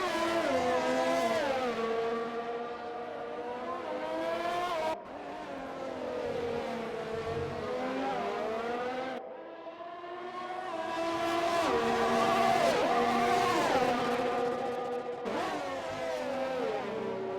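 Open-wheel race cars in a sim racing league event at Monaco, engines screaming at high revs with rising and falling pitch through gear shifts, several cars close together, loud and continuous.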